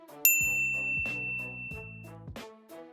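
A bright notification bell rings out sharply once, then a short series of chimed tones follows in a steady rhythm, clear and close, with nothing else around it.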